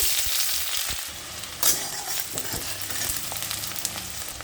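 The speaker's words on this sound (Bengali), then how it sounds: "পেঁয়াজটা একটু হালকা ভাজা হয়েছে" Onions fry in oil in a wok with cumin and bay leaf, crackling and sizzling up close while a spatula stirs and scrapes with occasional knocks, and no one speaks.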